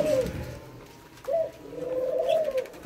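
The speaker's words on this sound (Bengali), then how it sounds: "আর এটা আবার ঠিকই ডাকতেছে, এটা মাদি ঘুঘুটা আর ওটা নর ঘুঘুটা" Doves, a male and a female, coo in slow, soft repeated calls, one caged pair heard close by with no talk over them.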